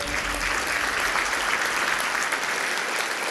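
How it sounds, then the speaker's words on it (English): Sustained audience applause at a Nunavik event on cleaning up abandoned mining sites: dense, steady clapping from a crowd, fairly even throughout, with no one speaking. "On les applaudit."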